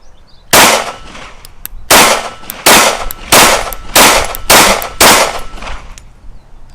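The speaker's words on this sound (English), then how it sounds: "Sweet shooting gun." Seven loud, sharp pistol reports from a TARA Aerospace TM-9X fired at an outdoor shooting range, spaced roughly a second apart in a steady rhythm, each with a short ringing decay and no talk.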